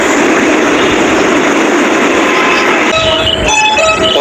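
The Orange Line metro train in Lahore runs with a loud, continuous rumbling roar heard close up, and a shift in its tone near the end.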